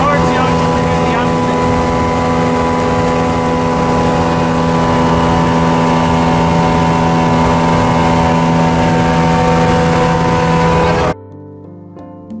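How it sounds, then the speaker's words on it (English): A fishing boat's engine roars steadily as it heads out toward the ocean at Nehalem Bay, a loud, unbroken drone that fills everything and cuts off abruptly near the end. "The steady roar of the engine blocks out all other noises we might hear as we move out toward the jaws of Nehalem Bay."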